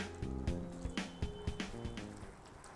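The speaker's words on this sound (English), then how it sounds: "We are adding some more soya sauce." Soya sauce is poured into a pot of Manchow soup, giving faint wet splashes and drips in an uneven rhythm of soft liquid plops.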